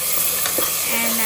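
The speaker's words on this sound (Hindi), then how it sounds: "मेरे प्याज थोड़े ब्राउन होने लग गए हैं, तो बिल्कुल लेट ना करते हुए मैं डाल दूँगी इसमें मेरा पेस्ट" Onion paste added to browning onions in a pot, a short burst of hissing sizzle with brief stirring scrapes, close and loud.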